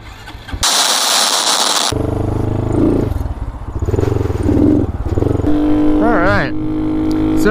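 Motorcycle fitted with a new DHM high compression piston revving and riding close by, a loud steady engine roar with throttle surges and wind noise, ending with brief squealing tones.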